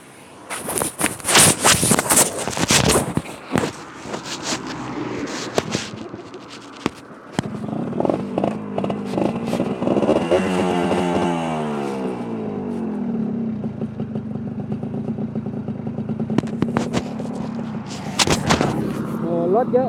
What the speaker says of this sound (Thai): มาแล้วติดเครื่องกัน